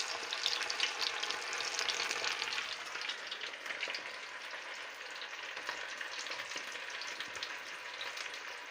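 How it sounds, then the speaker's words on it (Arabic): Breaded chicken pieces for homemade KFC-style fried chicken frying in hot oil, a steady dense crackling sizzle that runs the whole time at close range, with no voices. "وغنبدا نقلي وكتحطوها في الزيت غير شويه"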